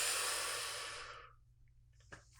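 A long, slow exhale during an Emotional Freedom Techniques tapping session, a soft breathy rush that fades over about a second and a half, then quiet with a faint small breath sound near the end.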